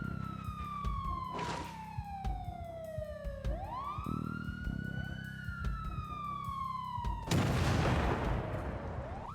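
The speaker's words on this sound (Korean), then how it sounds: "지상으로 후퇴해 사이렌으로 지하 좀비를 유인했습니다." A siren in the video game Cataclysm: Dark Days Ahead, luring zombies, wails with long rising and falling sweeps, loud and steady, accompanied by scattered sharp bangs and a burst of noisy crackle near the end.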